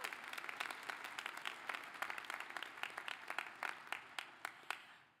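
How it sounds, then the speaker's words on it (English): Applause ripples through a law school graduation ceremony crowd, many hands clapping at moderate distance, dense at first and then thinning into scattered, distinct claps as it fades out. "a special round of applause and thanks to all of the mother figures"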